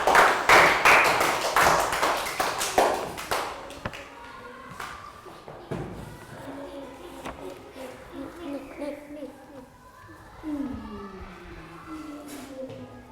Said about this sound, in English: Round of applause for that gal.